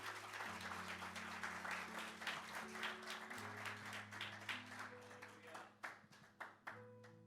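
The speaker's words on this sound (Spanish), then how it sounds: "fuerte el aplauso al Señor" A congregation applauding during a church service, a steady wash of many hands clapping over sustained organ or keyboard chords, thinning toward the end into scattered individual claps.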